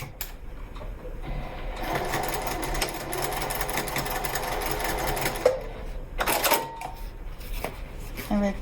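A sewing machine runs steadily, stitching the seam of a fabric wallet with a continuous mechanical whir, pausing briefly before a few short bursts of stitching; faint talk may sit under it.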